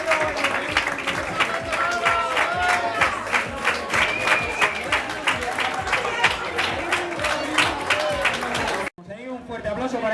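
Crowd applause at a mountain race award ceremony in Losar, brisk steady clapping with shouts and voices mixed in, cutting off abruptly near the end into brief chatter.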